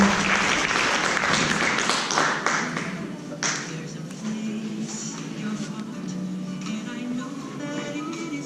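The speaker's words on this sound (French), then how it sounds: "on l'applaudit bien fort, puis on applaudit ça aussi également" Audience applause at a Christmas-party magic show, a burst of clapping that fades after a few seconds into a quieter room with voices talking underneath.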